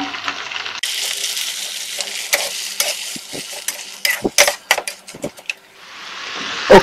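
Prawn shells frying in hot oil for a homemade prawn mee paste, a steady close sizzle broken by sharp crackles and stirring scrapes in the middle, then a rising hiss toward the end.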